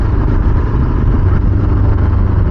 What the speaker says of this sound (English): we just cold started the bike and now we are moving